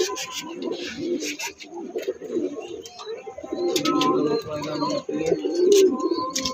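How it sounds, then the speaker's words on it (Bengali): Domestic pigeons coo steadily at close range while being let go to fly, with soft rustling and faint voices in the background. "প্রথমে ছাড়লাম, আর অন্য পায়রাও ছাড়বো, দেখাচ্ছি।"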